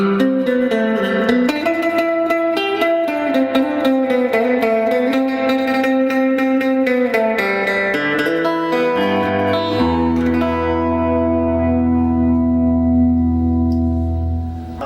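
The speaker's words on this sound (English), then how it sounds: "Definitely going to give us that quintessential classic surf sound, but with a different guitar" A Danelectro electric guitar with split single-coil pickups in the middle position plays through a Fender Pro Junior tube amp, giving a classic surf tone: a steady, dense melodic line drenched in reverb, ending on a held chord that rings out.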